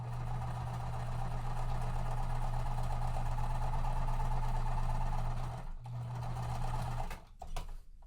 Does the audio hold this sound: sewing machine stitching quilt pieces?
yes